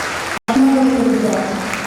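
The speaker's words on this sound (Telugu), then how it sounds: "ఒక్కసారి మనం సంతోషంతో ఆనందంతో ఆ తల్లికి గట్టిగా చప్పట్లు వసరించడం" A church congregation at a first Mass applauds together, a dense burst of clapping that keeps going, after one short break, for about a second and a half.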